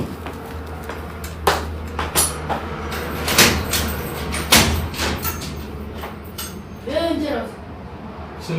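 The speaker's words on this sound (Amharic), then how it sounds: "በሩ ልገነጠለው ነው እንዴ" A door is rattled and forced, with repeated loud knocks and thuds in irregular bursts, close by, while people talk over it.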